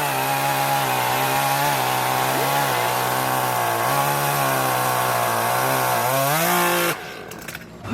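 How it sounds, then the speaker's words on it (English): A small 25cc Milwaukee top handle chainsaw screams at high, steady revs for several seconds, its pitch dipping and climbing slightly under load, then cuts off abruptly near the end. "25cc top handle chainsaw."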